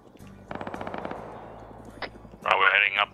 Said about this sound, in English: There's gunshots to our west, slight southwest